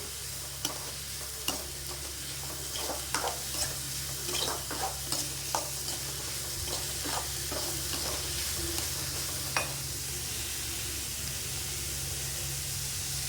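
Onions sautéing in a pan with a pinch of salt make a continuous sizzle, punctuated by repeated sharp spatula scrapes and taps throughout, close and clear with no talking.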